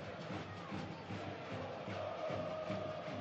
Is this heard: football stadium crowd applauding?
yes